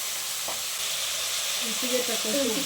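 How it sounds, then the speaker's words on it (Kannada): Rice frying in oil with tomato, a steady bright sizzle throughout, close and continuous, with a few faint tonal clinks or squeaks near the end. "ಸುತ್ತಲೂ ಎಣ್ಣೆ ಬಿಟ್ಕೊಳ್ಳೋವರೆಗೂ ಫ್ರೈ ಮಾಡ್ಕೊಬೇಕು ರೈಸ್"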